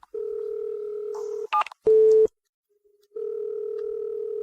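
Telephone ringback tone on an unanswered call, long steady electronic beeps, clear and close, broken by short clicks and a brief burst before the tone resumes.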